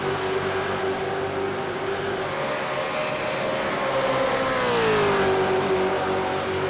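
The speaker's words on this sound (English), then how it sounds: "The Jason Dixon car in front, the Ford Mustang of Jason Dixon, really moving around, dancing around as he got on the throttle" Ford Mustang V8 race car at Phillip Island, its engine roaring loudly and steadily under throttle, the pitch climbing then dipping as it accelerates, heard close through the whole stretch.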